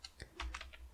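Quick bursts of keystrokes on a computer keyboard while Python code is typed, about five distinct clicks in a second, close and clear with no talking.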